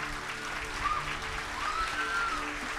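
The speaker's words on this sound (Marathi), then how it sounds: "A big clap." A church congregation applauds for Jesus in a sustained, even burst of clapping, fairly soft and distant, with a faint sung or spoken tone drifting over it.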